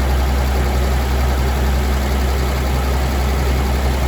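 The 226 engine of an old Willys truck idles in a steady, even low rumble that carries unbroken throughout.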